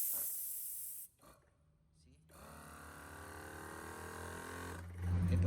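Air hisses out of a portable 4-cylinder air compressor in a steady broadband release that stops, then returns with a rising mechanical hum and a louder burst at the end.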